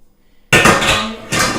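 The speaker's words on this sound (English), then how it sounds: "the equipment you're gonna need is 2 9-inch round pans, like these 2 I have right here." Two 9-inch round metal cake pans are handled in a kitchen, giving a close, loud metallic clatter and scrape that starts abruptly after a short silence, dips briefly, then picks up again with no talk.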